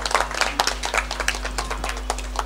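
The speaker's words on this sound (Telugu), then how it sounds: "పిల్లలకు చప్పట్లు కొడతలేరు మీరు" Scattered, uneven clapping from a small audience for children at a Sankranti rangoli contest in Vinayaka Nagar, Hayathnagar, with sharp individual claps under a steady low hum and no speech.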